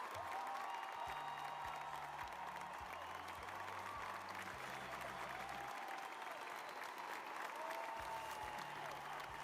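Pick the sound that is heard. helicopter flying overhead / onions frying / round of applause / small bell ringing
round of applause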